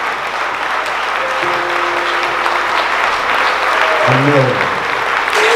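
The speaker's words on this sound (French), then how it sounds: "Applaudis." Sustained applause from a church congregation during a Sunday service, loud and dense, with a voice speaking over the clapping.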